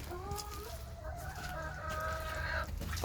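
Backyard hens cluck and squawk with drawn-out calls close by, one bird rising into a crowing note, over a steady low rumble of background noise and no talking.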